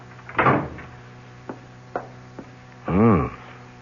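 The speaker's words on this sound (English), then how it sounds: "No, but come in and close the door." An office door closing in a vintage CBS radio mystery drama, with wooden knocks and clicks, a softer thud and a louder resonant creak-and-shut near the end, heard close and clear.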